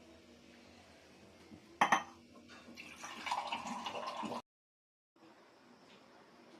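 Water poured into a pan of spicy masvadi curry gravy, a faint splash and clink of a vessel followed by a few seconds of steady trickling and sloshing, then a brief silence before quiet kitchen background.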